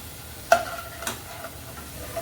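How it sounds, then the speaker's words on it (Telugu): Fried eggplant pieces lifted out of hot oil with a slotted spoon: a soft, steady sizzle of frying oil with two sharp metal clinks of the spoon. "ఇప్పుడు మనము ఒక జాలిగంట తీసుకొని దీనిలో నూనె బయటికి రాకుండా ఇట్లా తీసేసుకొని పక్కకు పెట్టేసుకుందాం."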